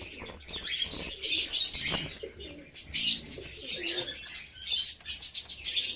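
Pigeons in a loft, including young birds, coo and chirp with bursts of wing flapping, busy and close, with no talking.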